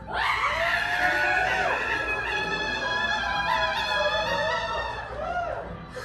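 Many children screaming together in a loud, sustained chorus of high shrieks and wails during a library story-time reading, rising and falling with bits of giggling, filling the room close by.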